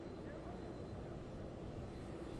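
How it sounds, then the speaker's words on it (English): In the background, a jet aircraft at a Florida crew arrival gives off a steady, faint, broadband roar that holds throughout. "Apologize for the jet noise in the background."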